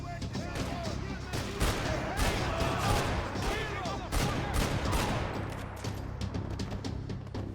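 Rapid bursts of Desert Eagle pistol fire in the Max Payne 3 shooter, loud cracks repeating in quick irregular volleys with game ambience between shots.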